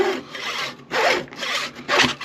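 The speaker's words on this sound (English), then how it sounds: "So I have my miter saw here set up with a block set at 60mm. So I can cut 2 spokes at a time" A miter saw cuts through wooden dowels for model stagecoach wheel spokes in three short, close rasping strokes, with no talk.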